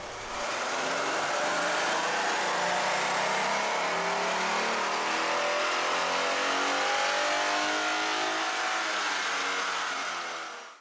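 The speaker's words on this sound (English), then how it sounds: "Let's start with the baseline dyno run." A 2011–2014 Ford Mustang's 3.7-liter V6 with a BBK cold air intake revs on a dyno, a loud sustained wide-open pull whose engine tone climbs steadily for about ten seconds before cutting off.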